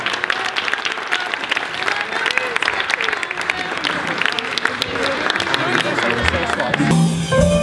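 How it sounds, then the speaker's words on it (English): Wedding guests applaud the cake cutting, a dense sustained clatter of clapping hands from a room full of people, with a brief burst of music or voices near the end. "let's give them a big, big round of applause"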